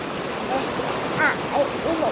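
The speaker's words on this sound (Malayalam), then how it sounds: "ഇന്ന് ഞാനിപ്പോൾ വെള്ളച്ചാട്ടത്തിൻ്റെ അടുത്താണ് നിൽക്കുന്നത്" Steady rushing roar of a monsoon-season waterfall heard from close by, a continuous wash of falling water with a few faint tonal calls rising over it.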